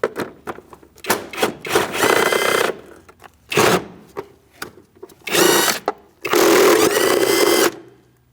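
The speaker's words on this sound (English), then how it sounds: "Now we're going to remove 3 bolts with a 10mm socket." Three 10mm bolts are removed with a socket from the thermostat housing of a 2000-2006 Mini Cooper 1.6L four-cylinder, heard as close, loud bursts of whirring tool noise separated by short pauses.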